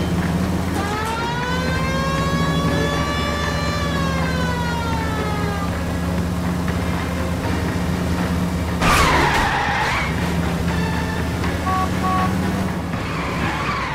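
Tires skid and squeal as a car is rammed and spun out during a police chase in L.A. Noire, loud and sustained with a siren-like wail, a heavy crunch of impact midway, then more screeching.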